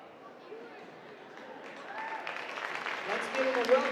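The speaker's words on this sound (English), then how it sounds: "Let's give them a well-deserved round of applause for all they do for our community." An audience at a high school volleyball match rises into applause for local first responders, with the clapping and crowd noise swelling from faint to fuller over a few seconds while an announcer's voice carries above it.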